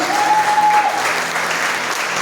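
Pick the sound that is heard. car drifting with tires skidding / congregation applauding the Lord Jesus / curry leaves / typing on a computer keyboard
congregation applauding the Lord Jesus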